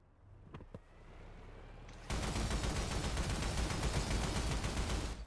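Sustained heavy gunfire in the tank combat game TankHead, opening with a few isolated shots and turning at about two seconds into a loud, dense, continuous barrage with no talking.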